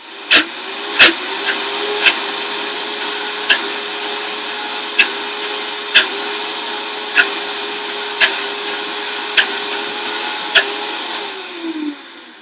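A Vitamix blender motor whirs steadily and loudly, with regular sharp ticks over the roar, before the motor winds down near the end.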